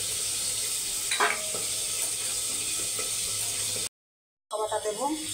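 Cauliflower stems with ginger paste sizzle and fry in a pan with a steady hiss, stirring scrapes on top, briefly cutting out to silence before the frying noise returns.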